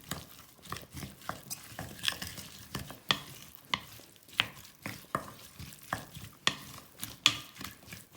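A spoon works through diced salmon tartare with cucumber and half a lemon in a bowl, making soft wet squelching stirs. Light clinking strokes repeat in a steady rhythm, close and quiet.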